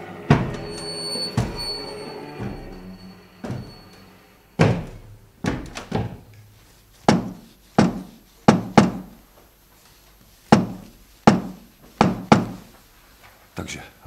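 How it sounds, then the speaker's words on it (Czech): Footstep sound effects in a live Sherlock radio play, a series of sharp, resonant thumping steps spaced irregularly at first, then settling into a steady walking rhythm as they approach, loud and close, with a voice briefly at the start. "Tiše, pánové. Slyším kroky."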